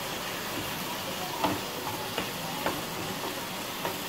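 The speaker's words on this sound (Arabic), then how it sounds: "هلا بحط دبس البندورة عليها قريب ال4 معالق" Tomato paste goes onto vegetables frying in a pan for pasta, a steady broad sizzle broken by several soft taps and stirs of a spoon, with no talk heard.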